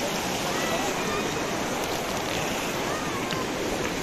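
River water rushes in a continuous broadband roar while the river is being crossed, steady and close with no breaks.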